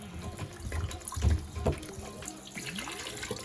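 Tap water running into a kitchen sink while a pumpkin is rinsed, a close, soft splashing flow with brief handling knocks.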